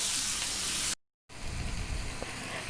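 Tomatoes sauté in a pan for a Tamil green peas and egg fry masala, giving a steady, bright sizzle that breaks off briefly into silence and then resumes with a softer hiss.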